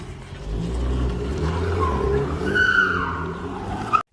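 A car takes off quickly with tires skidding and squealing, engine roaring as it accelerates away over a few seconds, fairly loud with a sharp cut at the end.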